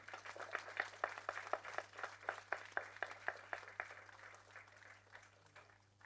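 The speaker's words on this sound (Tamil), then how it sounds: "ஒரு பெரிய கரகோஷம் கொடுத்துடலாமா?" Audience clapping at a movie audio launch event: a steady burst of many hands applauding, fairly dense at first and gradually thinning and fading toward the end, with a low steady hum underneath.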